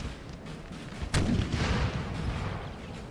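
Volleys of musket and artillery fire in a Napoleonic Total War 3 battle: a sharp loud report near the midpoint, then rolling booming gunfire that lingers over a distant battle din.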